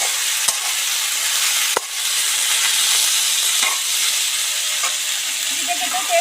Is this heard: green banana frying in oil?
yes